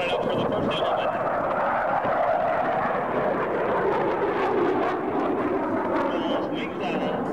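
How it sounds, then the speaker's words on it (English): A Super Hornet jet at an airshow roars steadily at full afterburner as it pulls up, a broad continuous rumble that stays loud throughout, with an announcer speaking over it. "Now watch as Marcia selects full afterburner, pulls the Hornet up for the first element."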